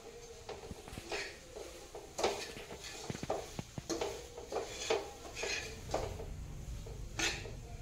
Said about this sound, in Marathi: तर मी अजून 5 मिनिटं हे परतवणार आहे.